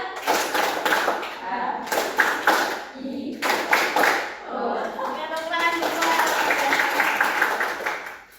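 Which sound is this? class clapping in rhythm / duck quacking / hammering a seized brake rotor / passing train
class clapping in rhythm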